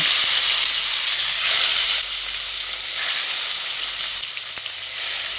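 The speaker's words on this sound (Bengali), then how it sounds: "ওই তেলেই আমি 10 মিনিট ম্যারিনেট করে রাখা মাছগুলো দিয়ে দিচ্ছি।" Marinated katla fish pieces hit hot oil left from frying onions, setting off a loud, continuous hissing sizzle that swells and eases slightly, with one brief tap near the end.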